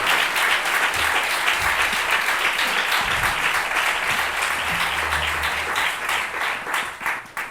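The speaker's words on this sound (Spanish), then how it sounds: "Un fuerte aplauso para ellos" Sustained audience applause at a book presentation during a book fair, dense and steady clapping that carries on for several seconds before gradually thinning toward the end.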